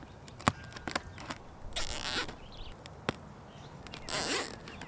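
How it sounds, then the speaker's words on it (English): Zip ties ratchet tight while re-covering a Morrell archery target: two short, raspy zipping bursts stand out against soft handling clicks and taps, close and moderately loud. "today we're going to be using zip ties."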